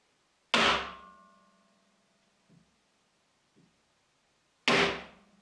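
A drill press chuck is tapped into place with a hard tool instead of a rubber hammer: two loud, close metallic knocks with a short ringing decay, about four seconds apart, with two faint small taps between them.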